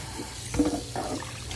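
Hot water running from a tap onto a cast iron pan during rinsing, a short soft splashing gush that swells briefly in the middle, no talking.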